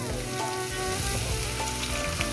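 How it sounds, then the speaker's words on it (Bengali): Masoor lentils tipped into a hot pan of oil with dried red chillies and panch phoron set off a loud, steady sizzle of frying that fills the moment with no voice over it. "কয়েক সেকেন্ড ভেজে নিয়েছি দেখুন বন্ধুরা এবার দিয়ে দেবো মুসুর ডাল"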